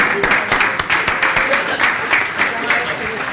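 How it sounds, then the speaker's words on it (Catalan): Audience applause at a public-administration innovation session, many hands clapping steadily and close for the full stretch, with a voice talking faintly underneath. "I ara fem un aplaudiment"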